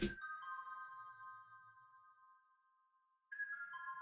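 Layered lo-fi keys and a mallet synth programmed in FL Studio for a beat: sustained bell-like tones ring out after a sharp onset, fade slowly, then a fresh chord strikes near the end.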